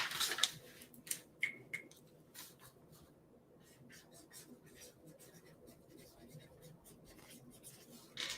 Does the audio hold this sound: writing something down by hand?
yes